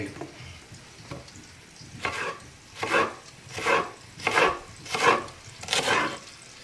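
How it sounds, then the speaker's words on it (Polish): Hamburger ingredients sizzling and frying in a pan, with rhythmic bursts of louder crackle roughly every half second as they are stirred or moved. "Ono się wszystko smaży."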